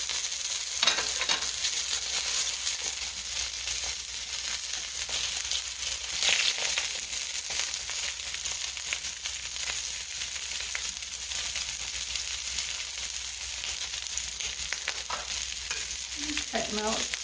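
Wild caught tuna sears in a hot pan, a steady, loud broadband sizzle holding without pause for the whole stretch, with faint scraping near the end.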